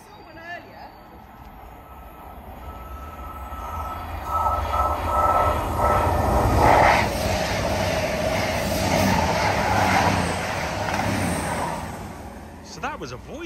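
A Voyager train passes in Train Sim World on the British line through Belper, its rumble and rhythmic clatter swelling to a loud peak midway and then fading as it moves off.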